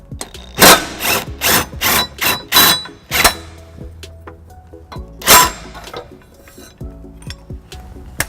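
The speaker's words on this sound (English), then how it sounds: "next I'll be using the cordless impact with a 6-inch extension and 11 millimeter" A cordless impact wrench fitted with a 6-inch extension and 11 mm socket removes the tow hook from a 2014 Toyota Highlander, firing several short loud rattling bursts in quick succession, then another burst after a pause, amid quieter clinks.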